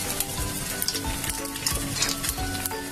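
Ginger added to hot coconut oil for a Kerala-style beef fry crackles and sizzles steadily, with a few soft stirring knocks near the pan and no voices.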